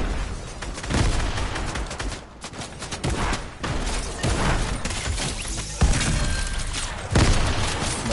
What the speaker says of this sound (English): Someone is persistent at shooting at me.